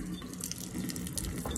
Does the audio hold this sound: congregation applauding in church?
no